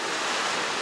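Ocean waves at a beach resort, a broad continuous wash of surf noise with a slight windy rush, steady and fairly loud throughout.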